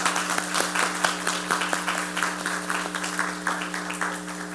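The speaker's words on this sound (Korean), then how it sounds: "잠깐 일어나시면 우리 박수로 우리 축복하겠습니다." A church congregation applauds to bless a departing family during a Korean service. The clapping is steady, moderately loud and sustained, with a low constant hum underneath.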